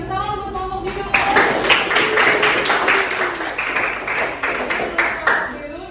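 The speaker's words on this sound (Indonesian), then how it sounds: "tepuk tangan untuk kelompok biru" A class of Indonesian students applauds the blue group with brisk, continuous clapping that starts after a brief moment of voices and carries on evenly, with chatter underneath.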